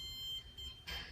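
A mostly 3D-printed robot is switched on and gives short, faint electronic beeps, a couple of brief high tones in a quiet room.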